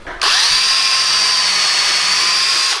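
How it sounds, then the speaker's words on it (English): A power drill spins up sharply and holds a loud, steady whine while pre-drilling into willow wood for a chair seat, close by and alone. "Pre-drill."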